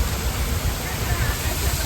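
Water pouring steadily at KP waterfall in Khopoli, a dense, even roar of falling water filling the whole clip at close range, with no breaks.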